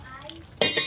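A lid set down on a cooking pot of simmering vegetable soup with okra and bitter melon, one loud close metallic clank after a quiet moment.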